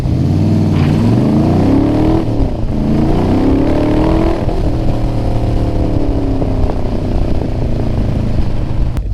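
A Cobra replica sports car pulls away, its engine a loud, steady low rumble that rises and settles through the whole drive, heard close with no talking.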